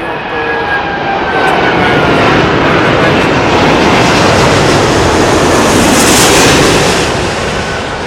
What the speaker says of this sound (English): Emirates A380 coming in from Dubai.